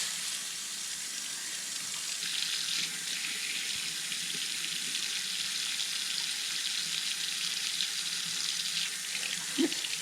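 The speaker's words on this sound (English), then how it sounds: "All right, I've got water on." Water runs steadily from a motion-sensing pull-down kitchen faucet into a sink, a constant close hiss with no talk over it.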